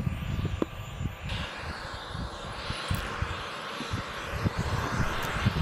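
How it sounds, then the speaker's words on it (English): Turbojet engine of a fixed-wing aircraft playing from a video, a steady rushing roar with a faint high whine and irregular low rumbling pulses, moderately loud throughout with no speech. "It's like a turbo jet. Jet engine."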